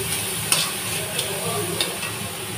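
Fish chop mixture stirred in a little oil in a worn kadai over medium heat: a soft constant sizzle with light spatula scrapes every half second or so, close up.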